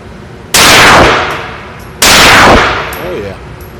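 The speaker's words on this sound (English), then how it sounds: "I'm going to put some rounds downrange" A Glock 19 pistol fitted with a Crimson Trace 206 fires two loud, close shots about a second and a half apart. Each crack leaves a long ringing tail that fades out.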